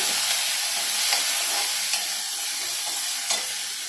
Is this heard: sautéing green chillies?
yes